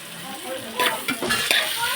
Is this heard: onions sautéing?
yes